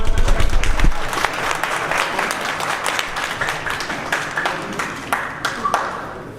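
An audience at a community association meeting bursts into applause in support of a nomination, dense clapping near and far that thins into scattered claps, with a brief thump at the start.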